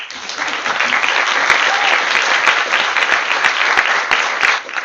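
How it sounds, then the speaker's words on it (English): Sustained applause from an audience at a pharmacy students' general assembly, a dense, loud and even clatter of clapping hands that holds for several seconds. "Can I hear applause for Dominika, please?"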